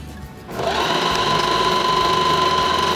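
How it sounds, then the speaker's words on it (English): A sewing machine starts up after a short pause and runs at a steady, fast hum while stitching strips of a reversible quilted table runner, loud and close. "For our next step, we'll sew each side to the center strip."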